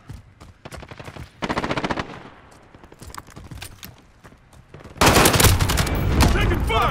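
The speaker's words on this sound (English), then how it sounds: "Taking fire." Gunfire in the video game Call of Duty: Modern Warfare: rapid bursts of automatic fire, loud and close, with scattered single shots and louder sustained shooting and battle noise at the end.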